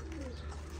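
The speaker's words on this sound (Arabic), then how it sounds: "طيور" Pigeons cooing in a loft of newly bought young birds, a soft low coo rising and falling once, faint and close over a steady low hum, with no voices.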